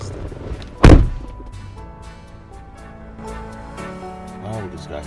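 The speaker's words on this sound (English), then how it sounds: "How would this guy hit my door like this?" Someone hits a door with a single heavy, loud thump, followed by quieter room sound and a few faint voices in a drama scene.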